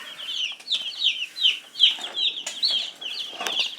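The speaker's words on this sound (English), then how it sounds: "First day we get the chicks," Newly arrived meat chicks peep continuously in a dense, high-pitched chorus of overlapping cheeps, close and steady, brought indoors on a cold day.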